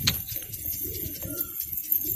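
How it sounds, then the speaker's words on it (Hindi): Pigeons coo softly and steadily at close range, a low murmuring call repeating under continuous background noise. "देखो दोस्तों ये रहा कबूतर"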